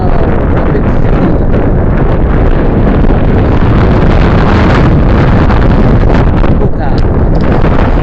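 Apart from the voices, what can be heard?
very strong wind in Rapid City, South Dakota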